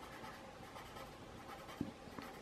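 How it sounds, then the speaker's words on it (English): Pencil drawing and shading on coloured paper, a faint, close, steady scratching and hatching of graphite with a small tap near the end. "Just doing a little bit of shading right in the hair"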